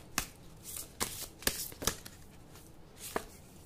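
A deck of tarot cards is shuffled close up, with several quick papery riffles and slaps in an uneven rhythm and no voice over them.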